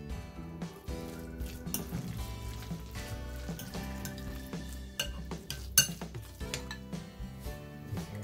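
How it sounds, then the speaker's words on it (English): Salmon burger mixture with crushed almonds and sesame seeds being stirred in a bowl, giving steady clinks and scrapes of utensil against dish throughout, with one sharper knock near the end. "I'm gonna start mixing it"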